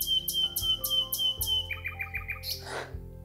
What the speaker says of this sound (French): On est dans la nature, entouré du chant des oiseaux qui résonne dans un silence absolu.